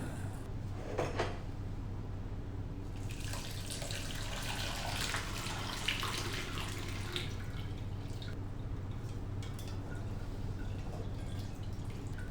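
Faint liquid, the whey from making rasgolla, trickles and drips through muslin cloth against a low steady hum, with a brief clatter early on and no talking.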